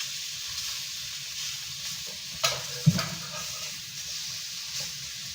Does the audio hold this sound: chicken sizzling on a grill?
yes